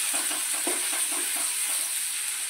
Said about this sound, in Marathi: तेल चांगलं तापलं की त्यामध्ये आपण जिरे टाकूया, मोहरी टाकूया आणि बारीक चिरलेला कांदा टाकून परतून घेऊया